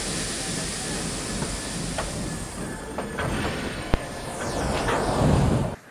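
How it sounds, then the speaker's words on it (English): A steam locomotive backs down onto its train with a continuous steamy hiss, scattered metallic clanks and one sharp knock, rising slightly near the end, up close. "Gordon backed down on his train, hissing mournfully"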